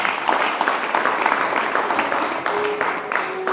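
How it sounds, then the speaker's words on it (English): Audience applause during a Gaura Purnima class and drama in Manchester, a steady dense round of clapping from a crowd with a few faint voices mixed in. "Give him a round of applause."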